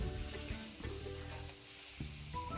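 Marinated chicken sizzles and fries in a tablespoon of oil and a tablespoon of butter for black pepper chicken, a steady close crackling hiss running throughout with no voices.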